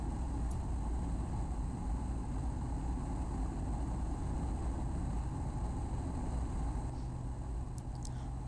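A Piper Cherokee Six single-engine aircraft cruises in flight at 75% power, its engine a steady, unbroken low drone heard from inside the cabin, with no speech over it.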